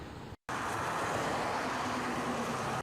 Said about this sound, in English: It's easy to hear and see how busy the intersection of Vernon Drive and Wendover Road is.